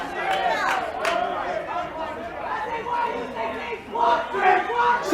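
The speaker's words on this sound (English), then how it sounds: "Everybody cheering on their team." A crowd at a high school 16-inch softball city championship game, cheering and chanting for their team with overlapping voices and rhythmic shouts, loud and sustained throughout.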